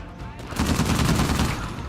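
Rapid gunfire in the video game Uncharted 4: a short, loud burst of repeated shots that starts after a brief lull and fills the rest of the moment, with no talk over it.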